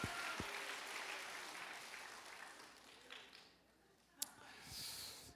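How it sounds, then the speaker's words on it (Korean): A church congregation at a prayer revival meeting claps together, a faint, distant wash of applause that fades midway, followed by a sharp single knock and a brief swell of sound. "박수."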